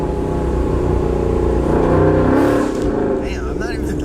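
A procharged Ford Mustang S550 engine drones and revs from inside the car, swelling briefly to a louder pull before easing off, while people talk over it.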